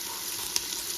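One whole Spanish onion and serrano peppers for bean soup sizzle in a hot pan, a steady close hiss of frying with one brief sharper spit in the middle.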